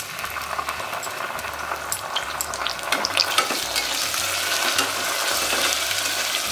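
Ginger garlic paste frying with onions and spices for chana pulao, a dense continuous sizzle with stirring scrapes and spatters close by, steady and loud with no talk.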